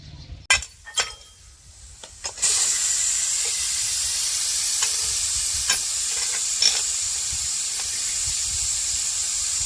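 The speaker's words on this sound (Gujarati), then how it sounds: "એટલે આ તો સિટીમાં હવા કાઢવી પડે" A few clinks come first, then a loud, steady hiss of steam rushes out and keeps going, with occasional small clicks under it.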